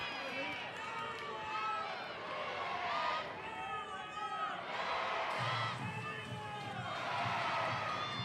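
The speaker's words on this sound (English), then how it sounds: "Sellout crowd making a lot of noise here in the 7th inning." Sellout crowd at a college softball game in the seventh inning, a broad roar of cheering and shouts from the stands under a play-by-play commentator's voice.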